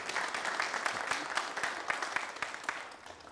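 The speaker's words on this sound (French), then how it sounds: "je vais vous demander de faire beaucoup d'applaudissements pour Monsieur Eliezer Oubda" Audience applause at a Burkina Faso TV variety show, a steady patter of many hands clapping for a guest, company CEO, fairly distant and even, with no voices over it.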